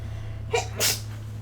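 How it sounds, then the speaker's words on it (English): A single close sneeze in two bursts, a quick sharp intake followed by a louder expulsion, over a low steady electrical hum. "More sneezes."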